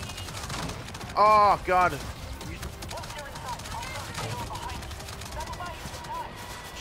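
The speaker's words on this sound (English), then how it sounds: "Who is shooting me right now?" Enemy gunfire in the video game Avatar: Frontiers of Pandora: rapid, crackling shots run steadily through the scene while a man exclaims loudly over them for a moment.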